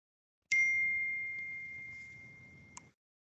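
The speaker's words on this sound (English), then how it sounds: "I heard a bell." A single bright bell strike rings out alone to mark time in a conference session, its clear tone sustaining and slowly fading for over two seconds, with a faint tap near the end.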